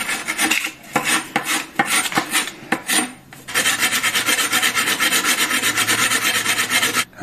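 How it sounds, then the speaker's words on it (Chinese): Abrasive sanding of the freshly cut end of a copper heating pipe, stripping the oxide layer before soldering during a DIY home renovation: short scratchy rasping strokes, then a long continuous gritty rubbing close by, with no talking. "这是拉完的口要打磨一下"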